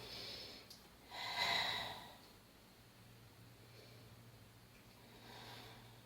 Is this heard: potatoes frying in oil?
no